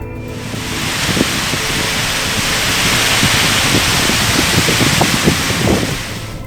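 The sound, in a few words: heavy rain with strong wind during a tornado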